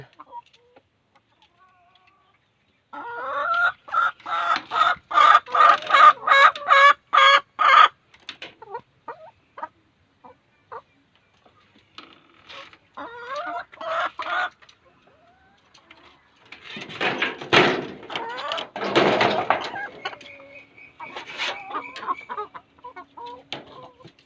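Chickens clucking and calling in a coop at dusk, in loud bursts of layered fowl calls separated by quieter gaps, with a dense flurry of clucks near the end.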